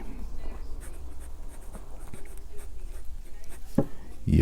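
A fine steel nib on a Sailor fountain pen scratches across paper in short, close strokes and pauses, quiet and intimate, ending in a couple of louder taps or handling knocks.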